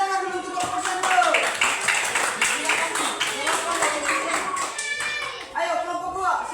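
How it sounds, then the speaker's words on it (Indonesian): A classroom of children claps together for a group of classmates, a quick rhythmic patter of small hands under children's chatter and an adult voice speaking over it. "Tepuk tangan dulu untuk kelompok 1."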